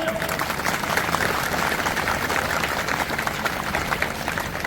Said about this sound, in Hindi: बजाओ, अपने अध्यापक के लिए ताली।